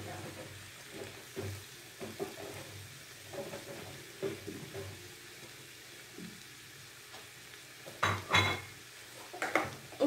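Chicken pieces go into a hot cooking pan, with a steady sizzle beneath repeated metallic clinks and clatter from utensils, growing louder toward the end.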